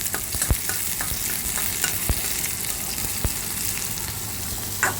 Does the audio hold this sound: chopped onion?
yes